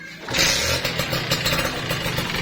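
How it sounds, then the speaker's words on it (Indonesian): Kawasaki Ninja RR two-stroke motorcycle engine idling close by with a rough, rattling knock, a steady buzzing drone with uneven ticking pulses throughout. "kita hidupkan dulu ya, biar tahu segimana ngeletreknya gitu"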